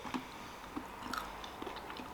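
Crunchy low-carb granola with pumpkin seeds, dried apple and coconut is chewed in a few close, quiet bites with soft crunching, no talking.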